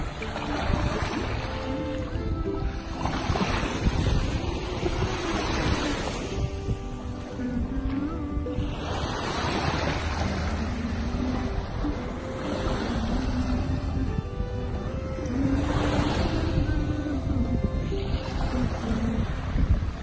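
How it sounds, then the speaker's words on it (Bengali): Sea wind and breaking waves on the Gulf of Mexico coast make a continuous loud roar that swells and recedes every few seconds, with a low rumble that may come from a passing boat or vehicle. "সমুদ্রের হাওয়া আর ঢেউয়ের আওয়াজ শুনছেন?"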